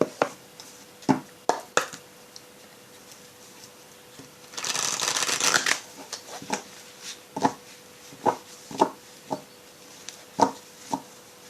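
Oracle cards are shuffled in a dense papery riffle lasting about a second and a half midway, set among sharp taps and handling knocks both before and after.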